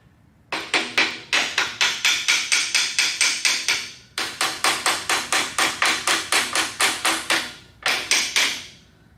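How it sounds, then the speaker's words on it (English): A hammer taps repeatedly on a car part in a garage, delivering rapid, evenly spaced sharp metallic strikes in three bursts separated by brief pauses, close and loud with no talk. "I need the hammer for that one."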